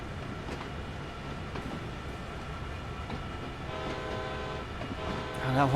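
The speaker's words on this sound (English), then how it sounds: "That horn just sounds so terrible." A boxcar train rolls along with clickety-clack in Train Sim World 2, then a harsh, loud horn blast sounds near the end over the steady rail rumble.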